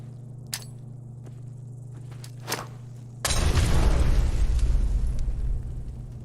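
A few faint clicks and taps come first, then a grenade in Fallout 4 detonates in a heavy, booming blast that rumbles loudly for a couple of seconds before easing.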